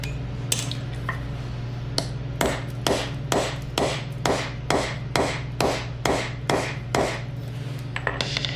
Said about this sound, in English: By taking the socket and smacking it, you're actually kind of shocking it, trying to break the rust loose